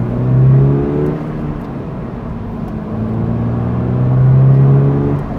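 A 2024 Toyota GR86 engine pulls in second gear at half throttle, a smooth, steady drone that swells and climbs in pitch twice, heard from inside the car with no talk.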